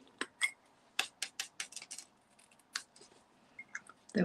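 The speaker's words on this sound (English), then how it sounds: "To use my ribbon scissors." Ribbon scissors snipping through ribbon during a gift-wrapping craft session, giving a quick series of sharp, close snips and clicks, with a louder knock at the very end and no talking.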